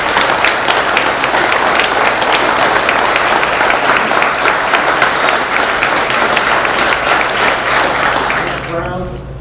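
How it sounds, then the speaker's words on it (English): Loud, dense audience clapping at a fire department's 110-year celebration barbecue, continuing steadily for several seconds before tapering off as a voice begins. "So a heartfelt thank you, and I want to applaud to you."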